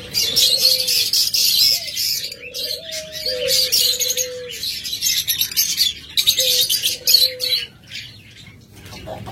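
Pet green fisher birds, kept as a pair among cage birds, chirp and whistle near the listener, giving short tonal calls and a few longer sliding whistles over a bright, steady background of other birds.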